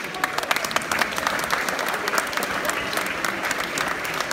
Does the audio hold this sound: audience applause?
yes